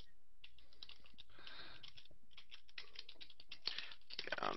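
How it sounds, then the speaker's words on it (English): Rapid fingers typing fast on a computer keyboard, dense clusters of light clicks with short pauses, fairly quiet and close, growing busier toward the end. "Those fingers are still typing fast, Pat."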